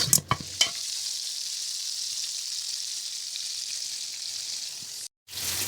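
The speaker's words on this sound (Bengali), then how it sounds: "তো এখন আমি মাছটা ভাজি" Pangas fish fries in a pan with a continuous bright hiss of hot oil after a few clattering knocks at the start, the sizzle holding steady before a brief cutoff and resuming.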